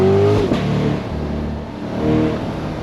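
A sports car engine revs hard and accelerates, its low growl sweeping upward then settling into a steady roar, loud and close.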